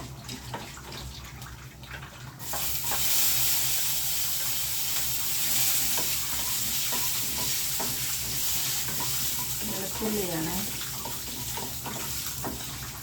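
Garlic sizzles in hot oil in a pan, beginning as a quieter hiss and then swelling into a loud, steady frying sizzle broken by scraping and stirring, with no voices.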